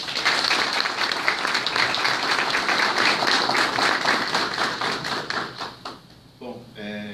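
An audience at a monarchist gathering in Vale do Paraíba applauds in a dense, sustained burst that tapers off near the end, with voices mixed in.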